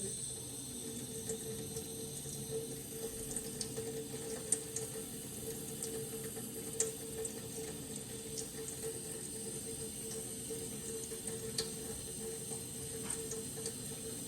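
Water runs steadily through a test rig while its water pressure is set, a faint, even hiss and flow with occasional small ticks and clicks and no voices.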